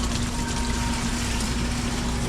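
A water purifier machine pumps water with a steady, loud droning hum and rushing flow, continuous and close with no voices.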